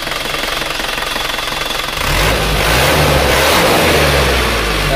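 An Isuzu Panther diesel engine, freshly adjusted at the nozzles and timing, idles with a rough clatter, then revs up into a loud, sustained roar close by with no talking.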